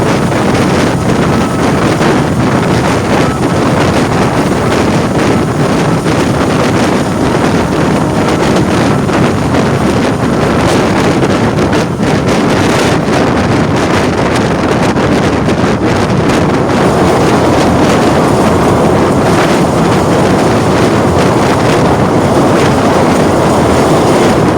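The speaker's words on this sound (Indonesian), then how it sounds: "Irama roda baja beradu dengan rel seakan menjadi musik pengantar perjalanan malam ini." Steel wheels of the Airlangga passenger train roll over the rails at night, a dense, steady rumble with a hiss that runs unbroken throughout, with no voices.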